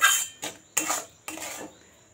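A utensil scrapes and knocks against a pan while milk sweet is stirred on the stove, four distinct clattering strokes in quick succession, close and fairly quiet, with no talking.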